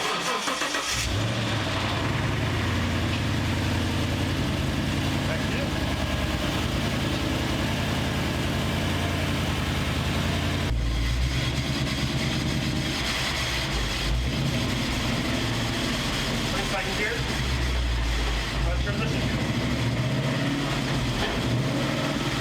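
Swapped engine in a burned 1965 Cobra kit car turning over, catching and running with a loud, rough idle close by, the tone shifting partway through as the revs change.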